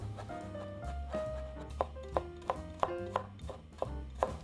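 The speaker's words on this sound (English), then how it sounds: "Start by mincing the garlic." A knife minces garlic on a cutting board in a kitchen, a faint run of quick, fairly regular chopping taps, close by and alone.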